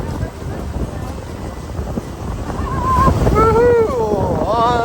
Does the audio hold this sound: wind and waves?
yes